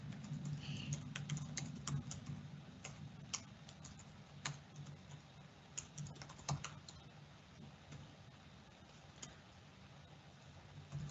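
Steady keyboard typing from webinar participants, a light run of soft clicks and taps with scattered louder keystrokes over a faint low hum, with no voices.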